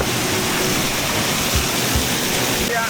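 Kawasan Falls in Moalboal, Cebu, pours with a steady loud roar of rushing water, dense and unbroken throughout, close to the cascade.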